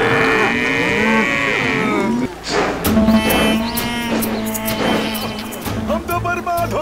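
Cartoon cows and bulls mooing loudly in a farm scene, long drawn-out lowing calls one after another, close and prominent.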